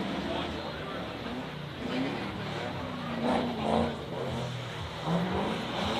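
A drift car sets off at the start of a competition run at an SRD Drifting the Plains event, its engine revving and rising in pitch a few times under a commentator's steady talk.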